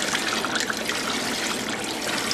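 Water pours and trickles steadily over rice grains being rinsed, a continuous close splashing wash with no voices.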